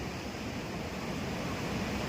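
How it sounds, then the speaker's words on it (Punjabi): Water from the Sutlej pours through twin irrigation canals in a steady, dense rush that stays constant throughout, with a windy outdoor hiss and no voices. "ਆ ਦੇਖੋ ਨਹਿਰਾਂ ਦਾ ਪਾਣੀ"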